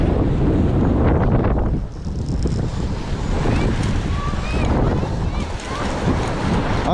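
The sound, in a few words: strong wind on lake shore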